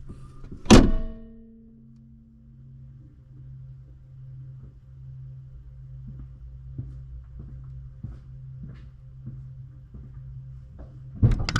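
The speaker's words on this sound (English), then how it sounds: "So we're gonna close the hood and make sure we got enough clearance and it's not hitting anything." The hood of a 2022 Ford Super Duty F350 truck slams shut with one loud, close thunk. A low, steady hum follows, with faint knocks, and another thud comes at the very end.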